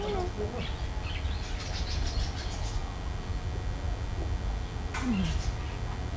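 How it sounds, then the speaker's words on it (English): A bird calls outdoors during a drive in Chiang Mai, Thailand, giving a few short chirps and a brief whistled note against steady background noise. "That bird just said Hong Nam."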